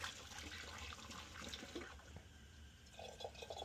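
Water poured down a clogged furnace condensate drain, a steady low trickling and gurgling with brighter splashy bursts near the end, close and fairly quiet.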